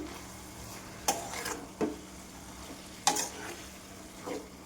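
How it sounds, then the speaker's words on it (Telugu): A spoon stirs brinjal and tomato curry in a pan, giving a few distinct scraping knocks against the metal over a soft, steady simmering sizzle, with no voices. "దీని అంతటిని బాగా మిక్స్ చేసుకున్నాం కదండి."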